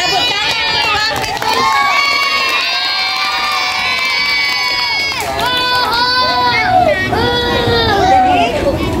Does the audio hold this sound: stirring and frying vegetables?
no